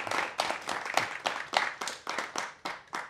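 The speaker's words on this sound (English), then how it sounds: "can we have another applause for them?" Audience applause at the close of a show with guest speakers: a small group clapping in uneven, distinct bursts, close and moderately loud, individual claps clearly separable.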